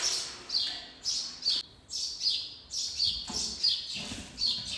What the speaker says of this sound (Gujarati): ઓહરીમાં ચકલી કરીને કેવો મસ્તીનો અવાજ કાઢતી હોય